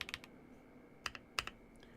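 Keystrokes on a Keychron V1 Ultra keyboard with double shot PBT keycaps come in a few short clustered bursts of crisp clacks, close and quiet, with pauses between.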